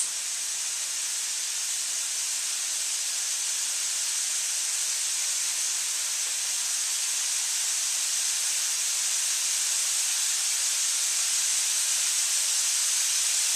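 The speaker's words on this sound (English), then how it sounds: "Keep on adding our sausage." Sausage pieces go into a hot pan alongside fennel and sizzle with a loud, even hiss that holds steady from start to finish, with no one talking.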